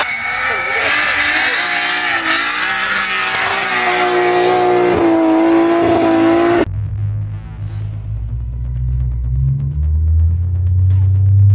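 A drag race car engine screams on its rev limiter, loud and sustained with a warbling, bouncing pitch for several seconds, then cuts abruptly to a deep, heavy idle rumble.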